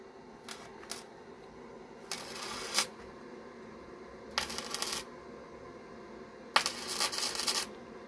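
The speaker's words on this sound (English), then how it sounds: "So I'll come over here to check on Wesley, and he's welding." Welding on the structure of a 1968 Ford Mustang comes in several short crackling bursts, each lasting under a second, separated by quiet pauses in a workshop.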